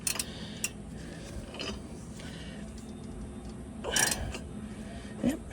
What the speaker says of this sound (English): you take a socket on a ratchet, put it right here on the alternator pulley, and you turn it over